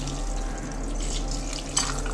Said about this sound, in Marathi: असे आपण आता साफ धुवून घेऊया.